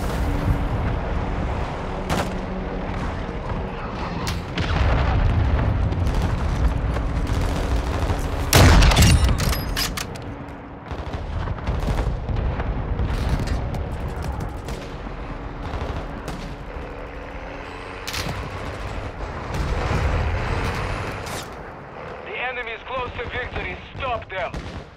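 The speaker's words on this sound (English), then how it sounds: "Hostile cruise missile incoming." Battle sounds from Call of Duty: Modern Warfare II, with repeated gunfire and heavy booming blasts from a cruise missile strike rolling through a dense, loud mix, one especially strong impact near the middle, with game announcer voice lines over it.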